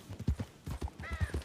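A pony's hooves clip-clop in a steady, close rhythm of evenly spaced thuds, with a brief whinny-like tone partway through and no talk over it.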